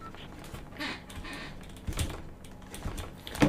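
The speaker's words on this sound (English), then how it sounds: "Keyboard mouse going." Computer keyboard keys and mouse buttons clatter during Fortnite play, with quiet, irregular taps and clicks scattered over a low background and a sharper burst near the end.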